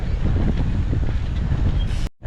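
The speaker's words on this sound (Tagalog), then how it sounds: "Sobrang lakas ng hangin." Strong wind roars and buffets against the microphone during a bicycle ride in a steady low rumble, loud and unbroken until it cuts off abruptly at the end.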